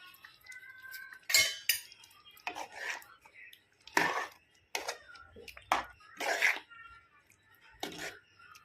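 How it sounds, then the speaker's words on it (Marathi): Paneer pieces go into a boiling pot of sweet corn palak paneer and are stirred, giving a string of sharp spoon-on-pot clinks and scrapes at irregular intervals, fairly close, with faint voice sounds between them. "आता त्याच्यामध्ये ते तुकडे केलेले पनीर घालूया."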